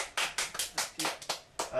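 Applause rings out in a French football World Cup 2010 TV magazine show, a short burst of sharp, close claps landing in uneven bursts over about two seconds.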